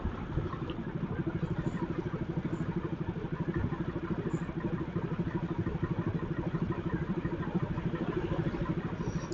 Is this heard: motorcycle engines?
yes